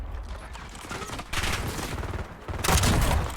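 Gunfire crackles in a Black Ops 7 multiplayer gunfight, with several rapid bursts and sharp volleys, the loudest near the end, and no talk over them.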